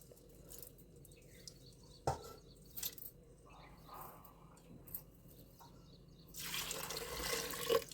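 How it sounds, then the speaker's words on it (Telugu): Water is poured into a pressure cooker holding lentils and chopped vegetables, quiet at first with scattered small knocks, then a louder rushing pour over the last two seconds. "ఇందులో ఒక లీటర్ వరకు నీళ్లు పోసుకోవాలి"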